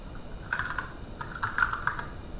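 Code for Rust Analyzer typed on a computer keyboard, two short runs of soft, quick keystrokes separated by a brief pause, close and fairly quiet with no talking.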